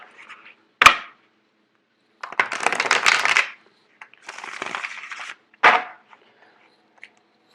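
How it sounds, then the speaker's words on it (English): Tarot cards are shuffled close up in two riffling bursts of papery rustle, each about a second long, framed by sharp taps of the deck against a surface in otherwise near-silence. "I'm actually going to do one more shuffle."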